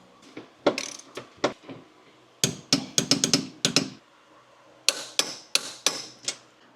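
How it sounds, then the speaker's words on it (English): A torque wrench tightening strut tower brace bolts on an F-body car, crisp mechanical clicks and ratcheting snaps in irregular clusters, close and clear with quiet gaps between. "since I'm weird, I'm going to torque them"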